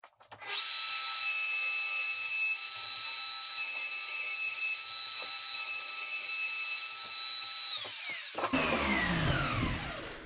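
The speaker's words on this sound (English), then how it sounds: "That is your bolt hole routed." A router cutting a bolt hole into a kitchen worktop whines loudly and steadily for about eight seconds, then spins down with a falling pitch as the motor is switched off.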